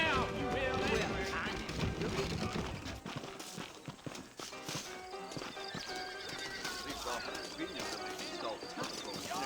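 Saddled horses clip-clop at a walk in the Red Dead Redemption game set in New Austin, with steady hoof beats and a whinny over dense game music and ambience, while a voice talks.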